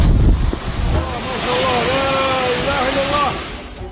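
Typhoon-strength storm wind and waves during flooding in Dubai roar loudly and continuously, with gusts buffeting the microphone, as a voice exclaims over the din.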